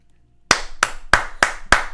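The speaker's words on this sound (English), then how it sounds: "nor clap his hands together" Five sharp hand claps in a steady, slightly uneven rhythm, close and crisp against near silence.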